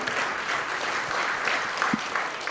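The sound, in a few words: audience applause for the panel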